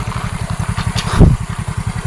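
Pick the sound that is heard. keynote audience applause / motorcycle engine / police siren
motorcycle engine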